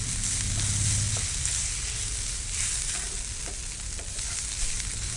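Fresh grated coconut fries in a pan with a dense, loud, continuous sizzle and occasional soft stirring scrapes throughout.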